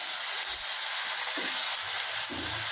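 Chopped tomatoes frying in a pan give off a steady, close hiss of sizzling that runs the whole time, with a few soft low knocks from stirring.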